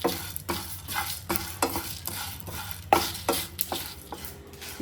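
Chicken fries in a pan over a low flame while a spatula repeatedly scrapes and stirs it, with rhythmic bursts of sizzling about every half second over a steady background hiss.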